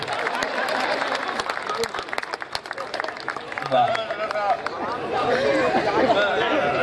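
An audience at an Urdu poetry gathering (mushaira) claps with sharp, scattered hand claps, building into fuller applause amid chatter and murmuring voices.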